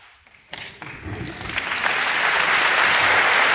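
An audience at a live conversation bursts into applause, starting quietly and swelling within a second or two into full, sustained clapping from a large crowd.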